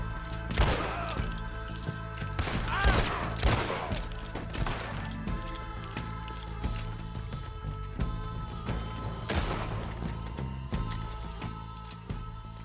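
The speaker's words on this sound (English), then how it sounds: "Why are you shooting at thin air?" Gunfire in Red Dead Redemption 2 during a robbery shootout: several sharp, loud shots and short volleys at irregular intervals over a steady tonal music bed, with sparse gaps between bursts.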